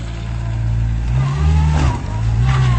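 Engine of a six-wheeled Citroën C15 car, loud and close, revving up and easing off twice in under three seconds with a droning mid-pitched tone.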